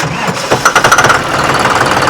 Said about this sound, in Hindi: ये आप लोग इसकी आवाज सुन लो, ये है 5210 इनलाइन फ्यूल पंप की आवाज